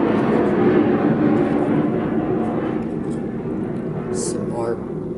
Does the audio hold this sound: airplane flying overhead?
yes